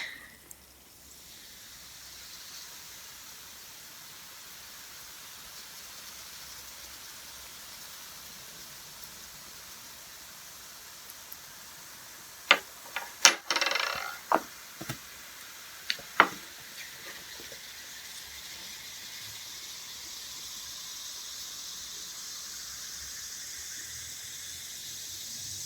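A whole spoon of baking soda plopped into a bowl, giving a steady hiss of fizzing that runs throughout, with a cluster of sharp splashy clinks midway.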